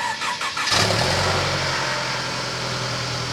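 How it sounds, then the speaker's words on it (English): A Mercedes cold start: brief starter cranking, then the engine catches abruptly and settles into a steady, fairly loud idle with no talking over it. "So let's do a cold start on both the Mercedes as well as the Toyota right now."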